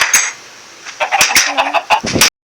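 Chickens cluck in Minecraft: a quick, uneven run of short, close clucks with brief gaps, ending abruptly in silence, with no talking.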